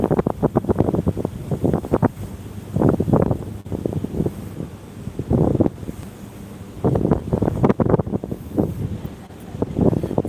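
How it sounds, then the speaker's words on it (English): Gusty wind buffets a phone microphone during an evening outdoor walk in Futako-tamagawa, Tokyo, coming as loud, low rumbling bursts that rise and fall in irregular waves over roughly ten seconds. "It's a little bit windy."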